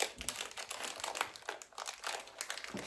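A plastic package of bracelets is crinkled and torn open, giving a close, busy run of rustling and crackling plastic with short pauses between the handling.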